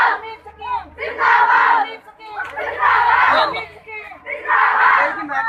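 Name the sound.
awareness rally crowd of Anganwadi workers chanting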